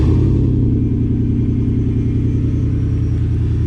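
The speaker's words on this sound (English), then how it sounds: "you get this really cool sounding Gibson exhaust system, which sounds really good" A Ford F-150 Rocky Ridge XLT with a 5.0-liter Coyote V8 and Gibson exhaust idles after a remote start, a steady, deep, loud burbling rumble close by with no talk over it.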